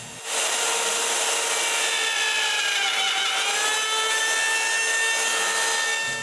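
A router with a copy bit hollows the inside of a wooden bowl, a loud, continuous high whine with a grinding cutting edge whose pitch dips and recovers midway before stopping.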